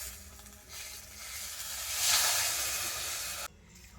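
Sugar and water in a kadai over the heat hiss and sizzle faintly as they are stirred to melt, swelling briefly, then cutting off abruptly.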